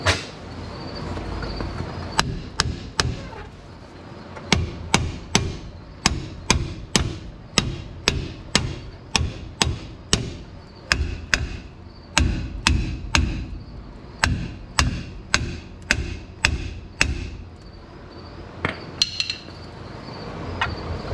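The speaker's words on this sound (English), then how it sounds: "Let me get a hammer." Repeated sharp metallic hammer blows on a stuck Ford Bronco brake part, struck in quick bursts and steady runs, ringing close by with short pauses between groups.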